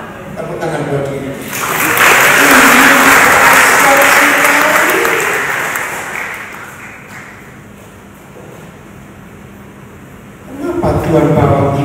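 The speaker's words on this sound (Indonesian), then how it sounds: "Tepuk tangan buat diri." An audience at a church sermon breaks into applause that swells, peaks and slowly fades over several seconds. Someone speaks briefly before and after.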